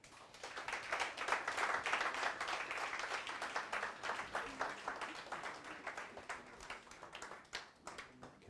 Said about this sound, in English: can we please give another round of applause to the President?